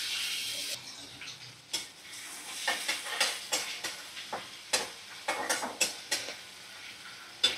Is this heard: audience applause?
no